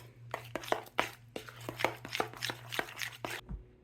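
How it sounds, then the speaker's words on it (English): Homemade ranch dressing being mixed by hand until smooth: a steady run of quick, sharp taps and scrapes of a utensil against a bowl, close and fairly loud, stopping abruptly near the end. "At this point, you just mix it up until smooth."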